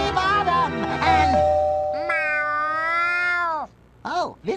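Cartoon-style cat meows in a SpongeBob SquarePants video game cutscene: a couple of short meows, then a long, drawn-out meow, ending with a brief voiced sound.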